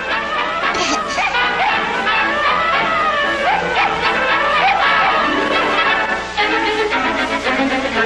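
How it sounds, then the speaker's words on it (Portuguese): A puppy yips and barks in short bursts in an old Castle Films movie, mixed with voices and other soundtrack sound. "Coitadinho desse cachorrinho."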